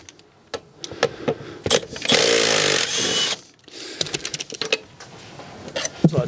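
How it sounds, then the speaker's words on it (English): A power tool whirs for about a second while the rear bolts of a BMW car seat are removed, surrounded by close metallic clicks and rattles of tools and hardware. "Let's get the rear 2 bolts removed."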